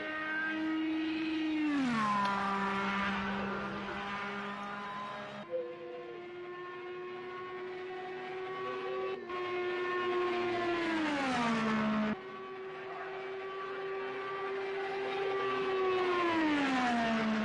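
Open-wheel race car engine at Indianapolis in Project Cars 2, a loud high-pitched whine with several gear changes and rising, falling pitch sweeps as the car laps, steady and close throughout with no talk.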